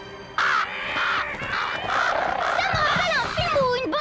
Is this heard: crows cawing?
yes